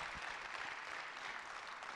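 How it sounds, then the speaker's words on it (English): Church congregation applauding during a full service, a soft, continuous patter of many hands clapping, heard faintly and evenly throughout. "Dennis, I hope you hear that applause"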